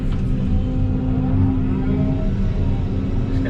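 An excavator engine laboring while digging compacted dirt on a busy site gives a loud, continuous low drone close up, with no speech over it.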